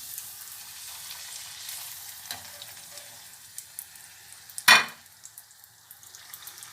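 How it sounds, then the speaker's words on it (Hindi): Gol gappa puris fry in hot oil with a steady, soft sizzle that runs throughout, broken by one sharp, loud splash-hiss burst midway, heard close with no voices. "अब इसे ऑयल में डालते हैं।"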